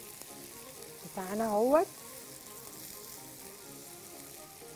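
Chopped onions sizzle steadily in a hot pan while being stirred, a soft continuous hiss running the whole time, with someone briefly speaking over it partway through.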